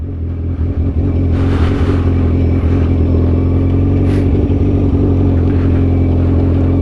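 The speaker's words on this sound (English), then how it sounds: "The bike is literally going by itself" A motorcycle rolls along in gear at idle with no throttle or clutch, a steady loud low engine drone with a few passing gusts of wind, no voices.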